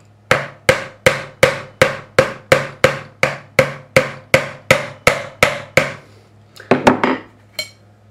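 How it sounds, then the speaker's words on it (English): Close, crisp hammer taps on the frets of an ESP Eclipse II guitar neck during a fret level, about fourteen evenly spaced strikes followed by a few quicker, irregular taps and a last lone tap. "I'm not hitting hard enough to put any dents in the neck"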